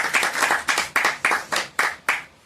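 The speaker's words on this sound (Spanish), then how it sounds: "Y recibámoslos con un fuerte aplauso," A handful of people clap in a bookstore at a poetry book presentation, about ten sharp, evenly spaced claps that sound close and sparse rather than a full crowd, then fading out.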